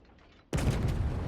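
Giulio Cesare battleship in World of Warships firing a salvo of shells: a sudden loud booming blast after a quiet moment, followed by a sustained heavy rumble.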